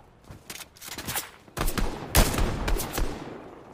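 Bursts of gunfire from the Fortnite video game, several quick volleys of shots, growing louder partway through with a heavy burst near the middle, no voices.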